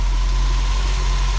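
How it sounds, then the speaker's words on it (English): The engine of a one-owner 1990 Corvette ZR1 runs steadily at close range, a dense, constant low rumble with a strong bass hum and no talking over it. "I'll show you the engine with it running"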